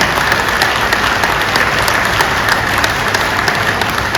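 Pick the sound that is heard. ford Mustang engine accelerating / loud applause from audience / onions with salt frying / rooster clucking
loud applause from audience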